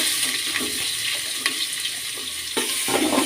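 Green chillies and onion fry in a pan with a steady, close sizzle and occasional scraping as the pieces are moved about.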